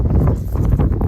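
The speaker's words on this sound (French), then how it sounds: "là il y a un peu de vent" Gusty wind on a high rooftop buffets the microphone in a steady low rumble for the whole second, with no voices.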